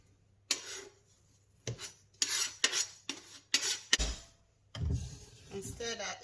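Chives stirred into fried rice in a pan, heard as a series of soft scraping, rubbing strokes of a utensil against the pan in uneven bursts, fairly close and quiet, with no talking over them.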